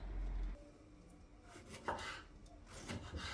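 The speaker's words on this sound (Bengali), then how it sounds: "তাই যে আমরা সালাদের জন্য টমেটো কেটে নিতে আসি।" Tomatoes are cut for a salad on a board, a few quiet knife strokes and soft taps spaced irregularly, faint and close.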